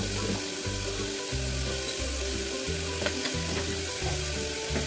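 Food fries in a pan in a home kitchen before broken wheat goes in, giving a constant crackling sizzle throughout, with a low rhythmic hum underneath and no talking.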